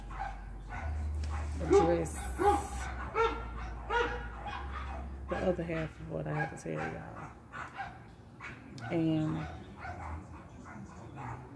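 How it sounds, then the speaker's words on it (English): Dogs barking and yipping outdoors, repeated sharp barks and whimpers mixed among continuous close talking, with the barks running under and between the voice throughout. "Excuse the dogs, child."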